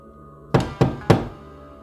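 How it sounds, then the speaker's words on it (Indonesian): Three heavy knocks on a door thud out at a slow, even pace, close and loud over a quiet low hum, used as a horror story sound effect. "Ketukan itu terdengar lagi, lebih keras kali ini."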